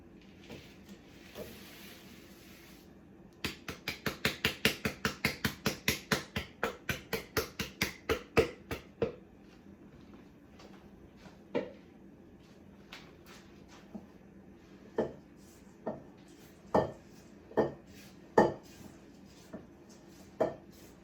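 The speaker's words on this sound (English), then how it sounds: "it is time to mix in our dry ingredients, which I'm going to start by hand." Flour and oats for oatmeal cookies are mixed by hand in a bowl, starting as a fast run of rhythmic scraping strokes, then slowing to spaced, sharper knocks and scrapes, with no talking.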